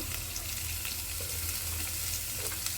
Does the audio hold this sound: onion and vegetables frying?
yes